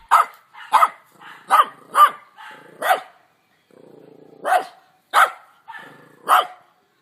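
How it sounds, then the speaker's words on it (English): A dog barks in a loud, close series of about ten sharp barks at an uneven rhythm, with a few softer whines and grumbles between them. "Dog."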